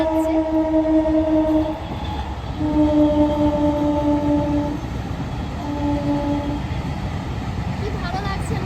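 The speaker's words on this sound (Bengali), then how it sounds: "কত সুন্দর ট্রেন যাচ্ছে" A train passing by, sounding its horn in three long blasts over steady rolling rumble and clatter, fairly close.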